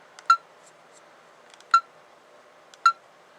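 A cheap Jazz camcorder beeps three times, each a short, crisp electronic chirp spaced about a second and a half apart, as the shutter button is pressed to stop recording, in an otherwise quiet room.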